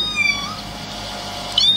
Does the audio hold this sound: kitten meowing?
yes